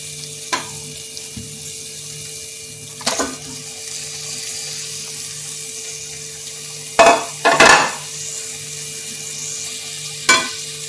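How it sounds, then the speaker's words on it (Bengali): Chicken pieces sizzle and fry in cooked-down spice masala for a Bengali chicken kosha curry, a steady hiss broken by sharp clattering bursts of stirring and utensil knocks, with no talking. "এর মধ্যে আমি এখন এই মাংসটা, এই চিকেনটা দিয়ে দিচ্ছি।"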